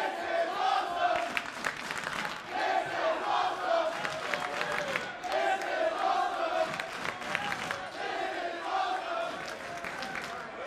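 Crowd at a live women's wrestling show cheers and chants loudly and continuously, a dense roar of many voices that swells in repeated waves.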